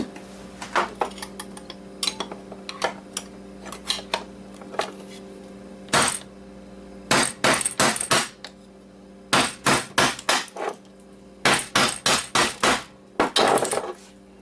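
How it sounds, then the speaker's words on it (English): Sharp metallic hammer blows on an Xbox drive land in irregular bursts, some single and some in quick runs, over a steady low hum. "So I can hammer this thing out."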